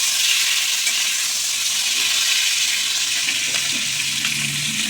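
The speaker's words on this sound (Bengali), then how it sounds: "চিংড়িগুলো আগে ভেজে নেবো ভালো করে।" Prawns frying in oil in a kadai (Bengali home kitchen), a loud, continuous close-up sizzle with crackling spatter and a faint stir or scrape near the end, no talking.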